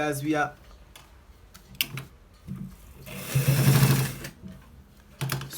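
A short close burst of sewing machine stitching on a shirt collar, lasting under a second amid scattered clicks and handling noises, with brief talking around it.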